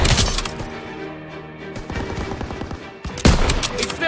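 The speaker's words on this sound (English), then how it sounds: "Fire on the MG!" Rapid machine gun fire from a Call of Duty: WWII battle, with loud bursts of rattling shots and a heavy impact near the end, shouted voices faintly underneath.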